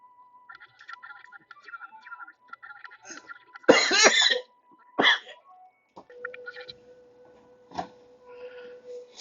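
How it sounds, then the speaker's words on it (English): A coughing fit from a man demonstrating umbrella self-defense techniques, a few sharp bursty coughs and a sneeze-like expulsion midway amid quiet clicks and handling noise in an indoor room, fairly close and isolated. "Had a bit of a coughing fit coming on."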